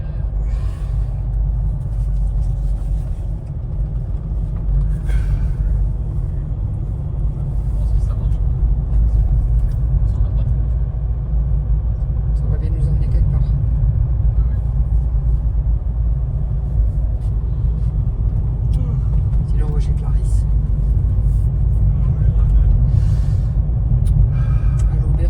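A car driving along a mountain road in France, heard from inside as a continuous low road and engine rumble with occasional light knocks and rattles over about twenty-five seconds, and voices occasionally talking.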